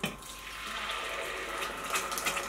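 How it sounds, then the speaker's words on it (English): Hot pepper stew poured from a container into a hot, sizzling pot, a steady splashing liquid pour with hiss running continuously for a couple of seconds, fairly faint and alone. "Once that's sizzling, you just then pour all your hot stew into the pot"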